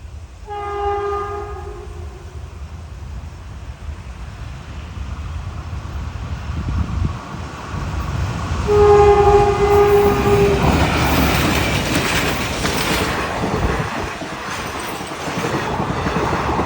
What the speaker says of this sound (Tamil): ஸோ அம்ரிதா எக்ஸ்பிரஸ் தான் இப்போதைக்கு வந்துகிட்டு இருக்கு